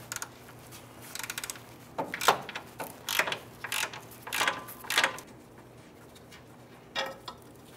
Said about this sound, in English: So using a 13 millimeter socket and our ratchet, we're gonna go ahead and loosen that.